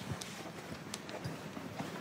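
Horse hooves clip-clop at a walk in a slow, steady rhythm, close and moderately loud over a low background rumble, with a horse that had been panicking earlier now calm.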